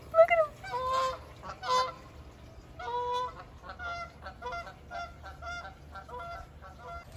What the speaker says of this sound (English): I never hear geese here in Arizona.